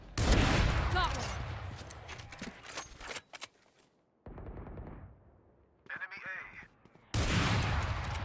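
Bursts of rapid video game gunfire, loud and dense at first, then breaking into scattered shots with brief silent gaps before another heavy volley at the end; a voice talks faintly underneath at times.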